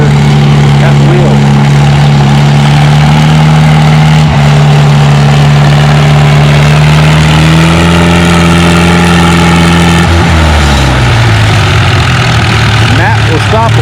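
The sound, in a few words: pulling tractor engine revving, Minneapolis Moline U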